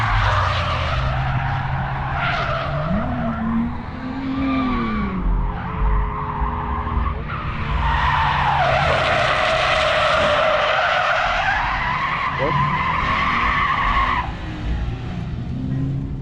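A 2JZ-swapped Nissan S13 drifts with long, loud tire screeches and skids over a roaring engine, the squeal rising and falling continuously as the car slides.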